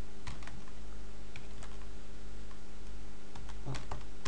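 Keys tapped on a computer keyboard while entering a network routing command, a sparse run of light clicks over a steady background hum, close and without talk.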